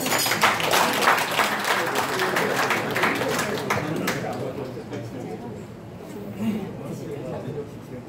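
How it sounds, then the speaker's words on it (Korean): An audience applauds at the award ceremony of a 2019 charity golf tournament at a golf club in Chuncheon, with dense clapping that stays loud for several seconds and then fades away into quieter room murmur. "여러분, 박수 한번 주십시오"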